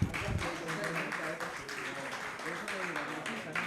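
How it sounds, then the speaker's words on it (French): Steady applause from an audience at a children's summer holiday competition semi-final, dense continuous clapping over about four seconds with a voice speaking over it. "on applaudit très très fort"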